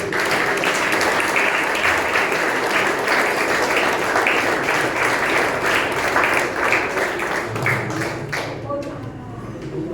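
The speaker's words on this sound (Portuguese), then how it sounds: "Meu aplauso ao Senhor, Deus." Congregation applauding during a Sunday morning church service: loud, steady clapping from a crowd for most of the span, with voices mixed in beneath, fading and thinning near the end as a voice continues.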